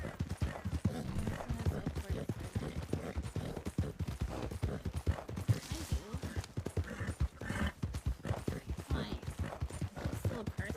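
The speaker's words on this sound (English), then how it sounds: "I heard horses" Horse hooves clip-clop steadily in the roleplay game Wild RP, at least two horses moving together at close range with faint voices underneath.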